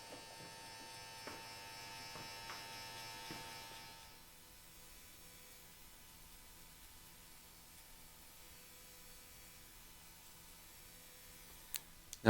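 Electric hair clippers fade a full beard using a full blade, buzzing steadily up close for about four seconds before dropping to a faint hum, with a few sharp clicks near the end.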